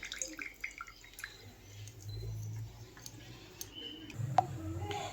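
Water drips and trickles in a kitchen as it is squeezed out of boiled bottle gourd (lau) leaves, with soft irregular drops and patters, one brighter drip standing out near the end, faint and close.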